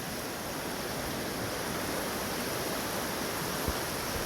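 A river flows at Three Forks along the Appalachian Trail, a steady, loud broadband rush of water with no voices and only a faint knock near the end.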